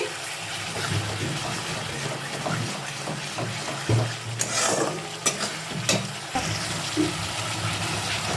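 Ground spices, sugar and Kashmiri chili powder sizzle in oil in a pan while being stirred for mixed fried rice, giving a steady close frying hiss with scraping spatula strokes and occasional sharp clinks.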